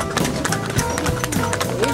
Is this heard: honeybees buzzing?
no